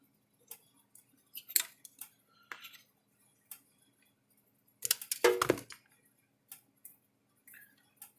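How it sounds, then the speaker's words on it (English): Wire being snipped with cutters while repairing an American Farmworks Black Diamond Series fence charger: sparse, sharp metallic clicks and snips close by, with one busier clattering burst midway, in a quiet room. "I'm going to cut someone's wire off."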